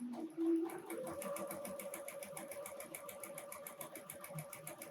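A sewing machine stitching appliqué pieces for a snowman quilt block, a fast, even mechanical rattle running steadily and close for several seconds after a brief hum at the start.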